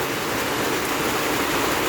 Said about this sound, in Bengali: হঠাৎ করে বৃষ্টি হয় ফিরে জায়গা।